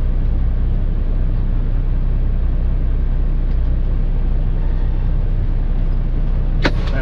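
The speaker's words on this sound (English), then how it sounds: "Sorry, just backing into my spot here." A semi truck backs slowly into a parking spot at a truck wash, its heavy engine a steady low rumble throughout, with a brief sharp hiss near the end as the maneuver finishes.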